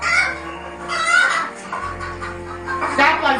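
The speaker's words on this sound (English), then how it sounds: "That one's the chicken again." A toy plays a recorded chicken sound, a series of close, loud clucks and squawks, while voices chatter and laugh around it.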